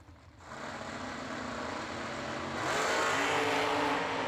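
Drag racing engines roar as cars launch at a New Year Nationals drag strip, including a Chevy II Nova wheelstander, the loud steady rumble building and swelling louder partway through.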